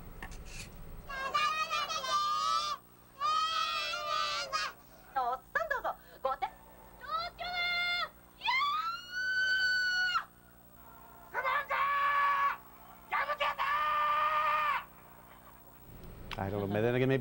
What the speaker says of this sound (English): It was a shouting contest, and the guy you heard last won.